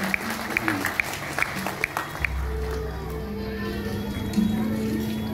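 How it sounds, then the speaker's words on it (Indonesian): An audience claps for honored guests at a 50th-anniversary celebration of the Wayang Orang Bharata theatre troupe, a brief scatter of claps followed by a steady crowd murmur with low tones and a speaking voice over it. "Tepuk tangan untuk mereka para tokoh-tokoh"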